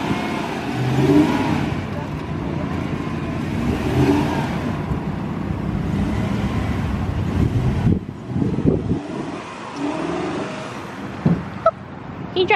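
A truck engine revving while stuck in beach sand, a steady loud roar with wind buffeting the microphone and people talking over it.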